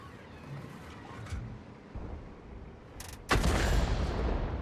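A BC 155-58 artillery tank gun in World of Tanks fires a heavy blast, a loud sudden boom followed by sustained rumble, after quieter scattered distant thuds.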